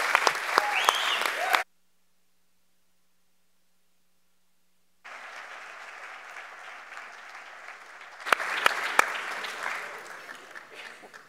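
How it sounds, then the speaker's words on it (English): An audience at a faith and science panel on the climate crisis applauds the young people; clapping is heard, cuts to silence for a few seconds, then returns, swelling louder near the end. "let's clap for the young people here and around the world."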